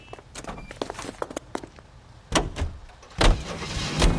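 Car sounds in the video game L.A. Noire: door thumps and shuffling footsteps at first, then heavier bangs and a rising engine rumble as the vehicle gets moving, fairly close.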